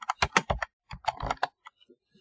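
Quick bursts of typing on a computer keyboard, close and crisp, a rapid run of keystrokes, a brief pause, then another flurry trailing off into a few scattered taps.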